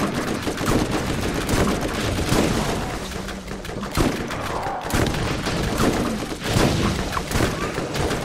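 Rapid weapon gunfire in the video game Borderlands, dense volleys of shots and booming impacts crackling nearly nonstop, with players talking intermittently over the action.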